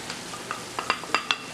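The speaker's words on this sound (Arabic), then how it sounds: "وكما كتلاحظوا البصله ديالي تشحرات" Onion frying in a pan gives a brief, quiet, steady sizzle with a few sharp crackles and pops scattered through it.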